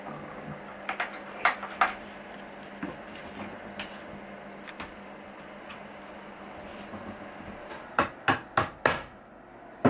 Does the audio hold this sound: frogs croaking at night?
no